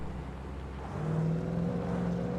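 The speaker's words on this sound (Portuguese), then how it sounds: "O carro tá falhando" A car engine in the video game Alan Wake Remastered hums steadily and rises in pitch as it labors and falters, a continuous moderate drone with no talking.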